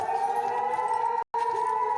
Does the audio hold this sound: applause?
no